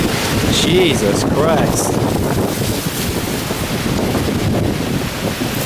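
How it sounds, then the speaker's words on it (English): Strong hurricane winds from Hurricane Irma at a Walt Disney World resort, said to reach 100 mph, roar loudly and steadily against the microphone while a person briefly exclaims over it. "100-mile-an-hour winds"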